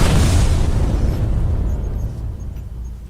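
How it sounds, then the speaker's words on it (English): A fireball cannon blast sound effect, one heavy booming explosion that hits loud at once, then rumbles and fades slowly over a few seconds. "And with a quick switch, Dave, fireball cannon."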